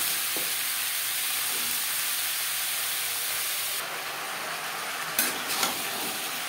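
Stalks and pumpkin pieces stirred in hot oil in a pan, a continuous sizzle with a brighter burst of frying partway through and a couple of sharp spatula scrapes near the end.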